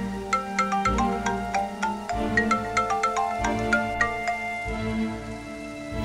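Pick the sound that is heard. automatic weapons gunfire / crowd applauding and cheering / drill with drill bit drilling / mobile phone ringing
mobile phone ringing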